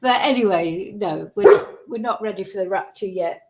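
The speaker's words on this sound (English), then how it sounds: "Sorry, that was my dog barking." A dog barks a few times in a household, its sharp yaps mixed under and between a person's continuous talking close to the microphone.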